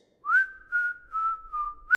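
A clear, melodic whistle in four sustained phrases, close and alone, with short gaps between notes and a brief rising chirp at the end.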